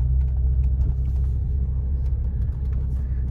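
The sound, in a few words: BMW M3 E46 car engine sound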